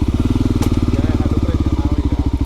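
A Voge 300 Rally adventure motorcycle idles close by, its single-cylinder engine thumping in a fast even pulse, loud and steady, with a brief click partway through.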